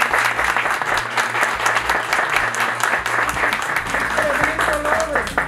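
An audience claps loudly and continuously at a university event, dense applause filling the room, with a voice briefly audible beneath it toward the end.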